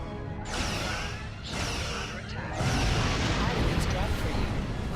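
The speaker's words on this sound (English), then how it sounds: "Press the spacebar to fire energy weapons." Energy weapons firing at floating debris in Star Trek Online, a few sharp blasts followed by a dense, sustained roar of fire.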